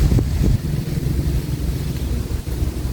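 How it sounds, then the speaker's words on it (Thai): Strong wind gusts buffet the microphone at a lakeside bottom-fishing spot, a continuous rough low roar with brief thumps and no voices. "ลมแรงจริง"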